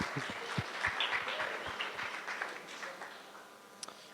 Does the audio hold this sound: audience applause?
yes